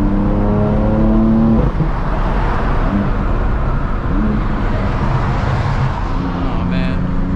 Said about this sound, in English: I like this loud exhaust because it definitely gets their attention when I want it to.